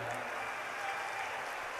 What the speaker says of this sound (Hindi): इनको भी ताली बजा करके स्वागत करो